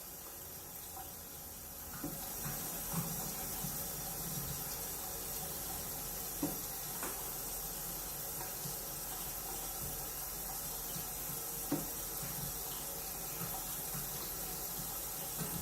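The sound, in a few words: water running from sink tap while rinsing hands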